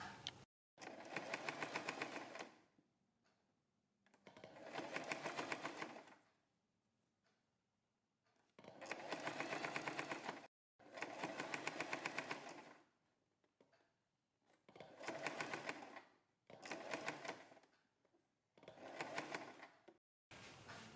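Sewing machine stitching the neck of a printed kurti, running in bursts of a few seconds each with short quiet gaps between, a steady close mechanical whirr.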